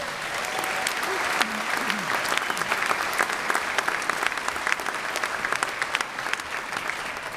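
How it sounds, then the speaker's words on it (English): Steady audience applause for a student at a graduation ceremony, a broad continuous wash of many hands clapping in a large hall, with a voice briefly audible early on. "let's give that good student a round of applause also"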